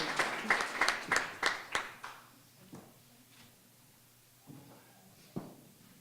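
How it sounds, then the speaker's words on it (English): Audience clapping at a 2018 Excellence in Teaching award ceremony, a burst of a few hands that fades quickly into sparse, faint claps in a quiet room. "Another round of applause for our fantastic winners."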